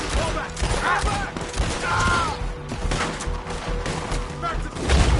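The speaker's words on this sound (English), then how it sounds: "Just keep shooting!" Shootout gunfire in Red Dead Redemption 2, dense overlapping shots crackling through a chaotic battle mix, with background voices and other game sounds layered underneath.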